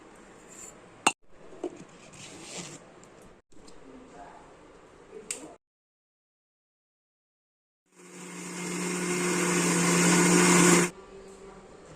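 A mixer grinder running on soaked urad dal, its motor whirring loud and steady for a few seconds after quieter handling clicks and a short silence.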